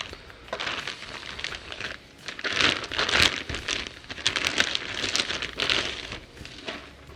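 Plastic packaging around Montana Black Angus beef dino ribs being cut and pulled open, a steady run of close crinkling and tearing rustles with brief louder bursts.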